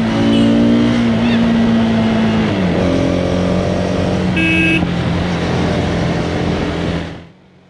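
A Hero Xtreme 250R 250cc motorcycle engine revs on open tarmac, its loud steady drone climbing in pitch and holding near, then cutting off abruptly and fading to quiet at the end.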